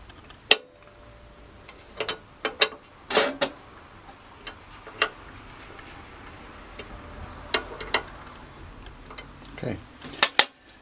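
Blade bolts on a Dewalt DW733 benchtop thickness planer being snugged up with a wrench, sparse sharp metallic clicks and taps scattered irregularly, close by, against a low background hum.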